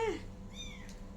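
A one-month-old kitten gives a single short, high meow, close by and fairly soft, over a low background hum.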